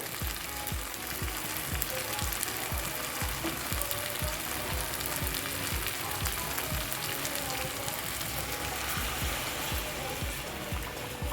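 Goat meat fries hard in its own released oil, giving a loud, dense, steady crackle with rapid popping throughout and no break.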